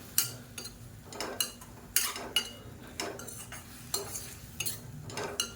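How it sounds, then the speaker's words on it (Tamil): Mint leaves are briefly sautéed in a pan for a tomato chutney, a utensil scraping and tapping the metal in regular strokes, soft and close with no talk. "புதினா சேர்த்துட்டு ரொம்ப வதக்க வேணாம், லேசாக வதக்கினா போதும்"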